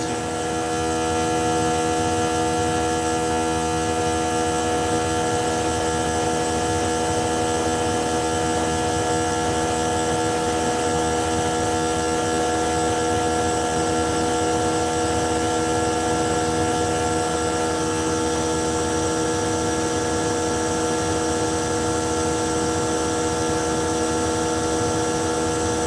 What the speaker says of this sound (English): Friends, I got the air compressor going.